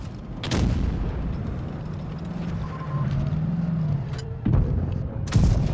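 Heavy booming tank cannon shots in World of Tanks Blitz go off a few times, sharp and loud, over a low rumbling engine drone.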